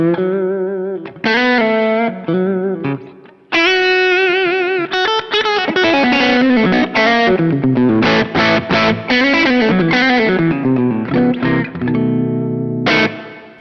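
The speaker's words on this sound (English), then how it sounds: "so you're just left with the overdriven tones" An overdriven electric guitar through a JHS Sweet Tea V2 pedal plays a loud, gritty melodic phrase with sustained bent notes and quick runs, separated by brief pauses.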